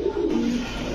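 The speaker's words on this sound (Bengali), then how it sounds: "এই যে দেখেন কোকাটা ডাকছে, একদম চিকন কণ্ঠের একটা ডাক" A male Saki Teddy pigeon with full feathered feet gives a thin, high coo, one sustained call running close and clear through the whole moment.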